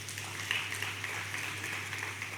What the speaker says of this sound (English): and then we can clap for the First Lady